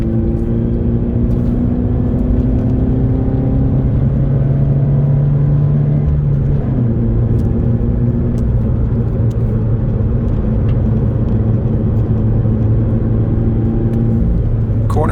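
Car engine pulling hard uphill on Mt. Rose Highway, a winding touge course, held at high revs with steady droning rumble and slight pitch shifts as gears and throttle change, loud and continuous throughout.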